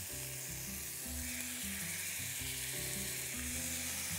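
Chicken pieces sizzling on a hot grill pan give a soft, continuous frying hiss, fairly faint, beneath steady background music.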